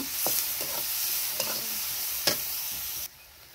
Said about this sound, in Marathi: मग मी कापून घेतले वांगे आणि आता परतून घेते.